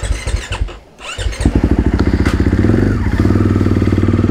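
A motorcycle engine revs and then settles into a loud, steady, throbbing idle, close by with some mechanical clatter and no talking.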